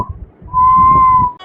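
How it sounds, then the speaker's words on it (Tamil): A man whistles a single steady, sustained note of about a second, heard close and clear over low background rumble. "ஆஹா, விசில் அடிக்கிறாரே."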